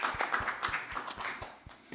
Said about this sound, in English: one other round of applause